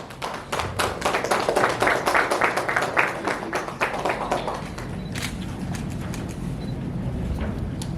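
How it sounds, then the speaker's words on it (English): An audience applauds at a university and hospital MoU exchange ceremony, a dense burst of clapping that swells over the first few seconds and then thins to scattered claps against room noise. "Ladies and gentlemen, a big round of applause."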